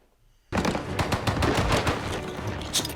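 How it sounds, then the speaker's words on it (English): Rapid, loud gunfire from a battle scene in the 2008 movie Rambo. A sudden burst begins after a brief quiet moment, then dense overlapping shots continue without a break. "The bullet shots are so, like, deep, like,"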